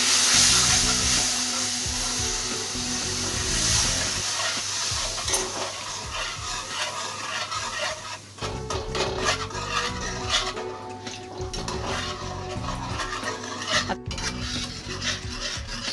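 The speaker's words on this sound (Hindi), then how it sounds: "अब इसमें हम स्लोली दूध ऐड करेंगे।" Milk poured slowly into butter-roasted flour and stirred for a cream sauce for chicken, a steady scraping stir against the pan with soft bubbling and sizzle underneath, close and without talk.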